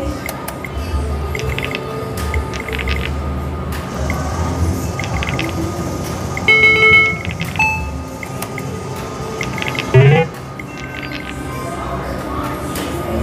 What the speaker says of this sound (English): I kind of like the dice sound.